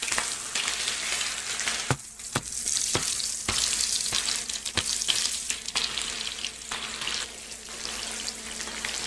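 Chicken for burritos fries loudly in a pan, a steady close sizzle broken by several sharp utensil clicks and taps as pieces are moved and flipped.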